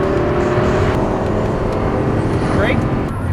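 A Lamborghini on a race track at full throttle, its engine roaring steadily and loudly up close for the whole stretch while someone talks over it.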